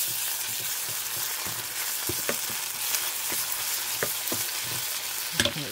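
Chili powder and tomato paste sizzling and frying in a pan for enchilada sauce, a steady close hiss broken by scraping stirs and a few sharp clicks near the end.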